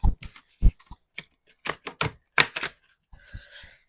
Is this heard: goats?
no